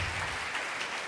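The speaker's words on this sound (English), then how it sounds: "Let's have a round of applause for Lark." A congregation applauds a child, a brief wash of steady, dense clapping filling the room without pause.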